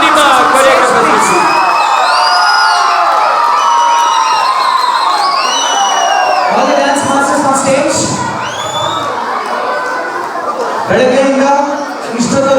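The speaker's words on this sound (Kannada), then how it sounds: "ಬನ್ನಿ ಜೋರಾದ ಚಪ್ಪಾಳೆ." Loud, dense crowd cheering and whooping fills the stage as dance masters and choreographers are called up, with shouts and excited voices rising and falling throughout, a brief lull near the end before another burst.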